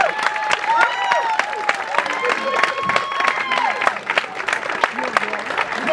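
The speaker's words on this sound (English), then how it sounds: "Come on, round of applause for Jessica." At a comedy show fundraiser, the audience claps and cheers for a stand-up comedian. Scattered hand claps and crowd noise mix with voices talking and calling out over several seconds.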